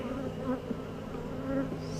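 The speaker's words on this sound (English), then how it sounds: "So we got bees on this one" Honey bees buzz steadily at close range during a backyard hive inspection, a continuous drone with slight swells and no talking.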